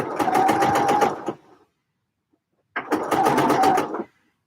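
Overlocker serging a knit top in two short bursts of rapid, even stitching, close and fairly loud, separated by a brief silence.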